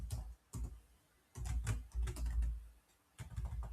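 Keys clatter on a computer keyboard as a Linux command is typed, in a few quick close bursts separated by short pauses.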